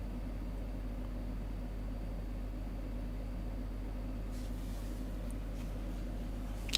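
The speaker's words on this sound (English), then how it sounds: "I hear the air conditioner in here." Indoor air conditioner giving off a low, steady hum and faint broadband hiss that fills the room evenly, quiet and unchanging, with a brief soft rustle near the end.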